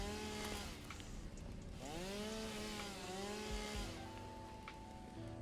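A chainsaw cuts trees in a video game, a steady buzzing whine that dips and rises in pitch as it bites, heard over a constant background wash.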